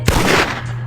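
Video game gunfire in a campaign match, a single sharp close shot with a quick crackling burst that fades out within a second.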